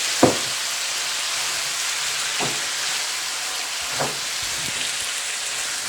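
Green beans and a prepared Sichuan-style sauce in a hot pan, producing a continuous loud sizzle broken by a few soft utensil knocks.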